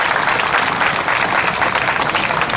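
Dense, sustained applause from a large crowd at an outdoor memorial rally, loud and steady throughout with no pauses or voices.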